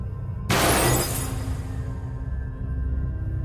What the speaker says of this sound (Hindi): फिर नीचे कांच के टूटने की आवाज आई